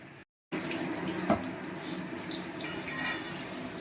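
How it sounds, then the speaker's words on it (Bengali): Tap water runs steadily into a sink as soaked Gobindobhog rice is rinsed again, a continuous close splashing flow after a brief silent gap, with small clinks of grains and vessel. "চালটা একটু ভালোভাবে আরেকবার ধুয়ে নেবো"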